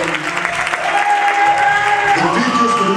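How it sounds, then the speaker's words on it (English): A church congregation claps hands for praise and worship during a service, steady dense applause throughout with some crowd noise and a sustained tone mixed in. "Clap your hands for the praise and worship."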